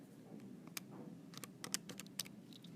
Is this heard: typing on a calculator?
yes